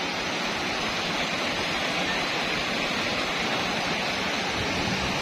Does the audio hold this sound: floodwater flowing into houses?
yes